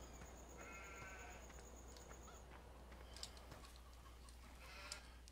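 Sheep bleat faintly in a farming video game, with a few soft calls over a steady low background hum. No voices are heard.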